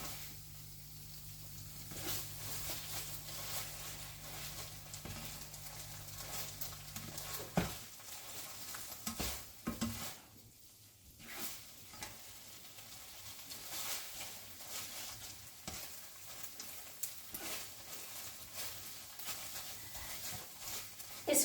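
Pad thai with prawns, noodles and sauce stir-frying in a hot pan, giving a steady close sizzle with scraping and stirring that rises and falls for about twenty seconds.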